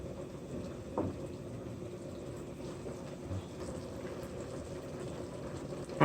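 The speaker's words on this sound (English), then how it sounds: "The coconut milk. Gonna let this come to a rapid boil." Coconut milk bubbling at a rapid boil in a pot for a shrimp pasta sauce, a steady low churning burble with a few soft pops, close and unbroken.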